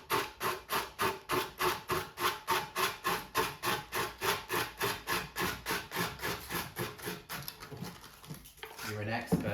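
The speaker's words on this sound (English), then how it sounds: "So again, I'm sanding away from the bonded edge." Sanding by hand along the edge of a painted wooden furniture piece makes a brisk, even rhythm of back-and-forth rasping strokes, close and loud, before it stops and faint sounds of the workshop follow.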